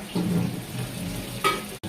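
Curry leaves hit hot oil in a pan with onions and green chilies for a crab curry, giving a loud, steady sizzle up close that flares briefly near the end.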